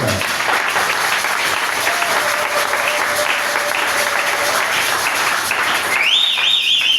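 A church congregation applauds for the Lord in a loud, dense, sustained wash of clapping that carries through, with a faint electronic tone rising near the end.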